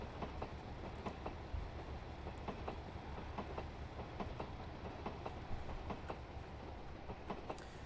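A train running on a main line near Plymouth and Penzance routes: a continuous rumble with rhythmic clickety-clack wheel beats over the rails, steady and moderately loud, no talking.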